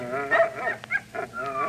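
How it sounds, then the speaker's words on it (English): Dogs bark and yip in short, excited bursts, some whining and whimpering tones mixed in, close and moderately loud over about two seconds. "Dogs. That is the sound of dogs."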